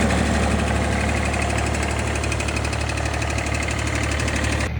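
A three-cylinder diesel engine on a wood-handling machine idles just after starting, a loud, steady, close rattling knock that keeps an even rhythm throughout.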